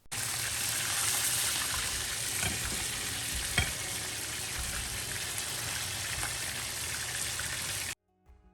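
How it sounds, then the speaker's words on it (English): Fish sizzling and frying in hot oil in a home kitchen, a steady dense crackle with occasional sharper pops and stirring, close and continuous before cutting off near the end. "after you finish frying all of the fish"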